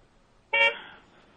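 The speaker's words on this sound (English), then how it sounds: "Who's honking?" A single short car horn toot sounds suddenly out of near silence, loud and close, then decays quickly with a brief ringing tail.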